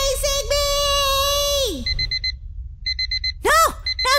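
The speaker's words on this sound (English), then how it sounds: "Why do I hear an alarm clock?" An alarm clock in a Roblox zombie-outbreak game rings in short repeated electronic bursts, loud and close, between a child's high-pitched voice and sweeping cartoonish sound effects.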